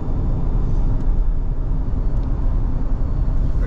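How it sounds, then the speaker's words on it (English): A 2016 Ford Expedition with the EcoBoost turbo engine accelerates, heard from inside the cabin as a loud, steady broadband rumble of engine and road noise that holds without break. "That's your EcoBoost Turbo accelerating up."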